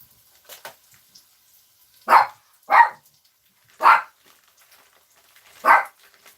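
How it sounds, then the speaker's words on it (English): Puppies barking excitedly in a kitchen during breakfast freezer-meal prep: four loud, sharp barks at uneven intervals, close by, with a few faint yips between them and no talking. "you're going to hear the puppies. They get a little bit excited."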